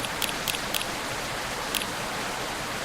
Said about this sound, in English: This rainy season sure is something.